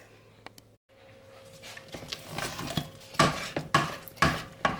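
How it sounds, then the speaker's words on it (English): Homemade playdough being stirred in a pan, with soft scraping and knocking strokes that turn into louder, rhythmic scrapes against the pan in the second half. "So keep stirring it so it doesn't stick to the pan too much."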